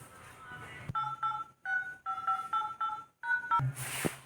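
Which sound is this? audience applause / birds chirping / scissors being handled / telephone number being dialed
telephone number being dialed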